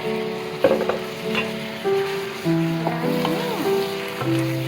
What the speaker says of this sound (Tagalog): we're going to make gisa, the chicken fillet here. I will add it now.